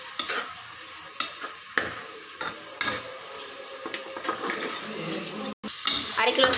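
Chicken frying with masala, green chilli and mint in a pan: a steady close sizzle broken by repeated sharp clacks of a spoon stirring against the pan, with no talking.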